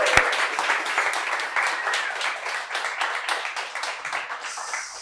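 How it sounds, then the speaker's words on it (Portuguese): A talk show studio audience welcoming guest José Vitor Oliva with applause, a lively, fairly close rush of many hands clapping that carries steadily for about five seconds with crisp individual claps standing out. "Salva de palmas!"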